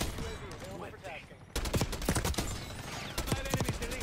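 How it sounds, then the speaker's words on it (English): Rapid bursts of pistol gunfire from a rapid-fire sidearm in Call of Duty: Black Ops 6 multiplayer, sharp repeated shots crackling loudly after a quieter opening, with a player talking briefly underneath. "This rapid fire pistol feels nice as hell"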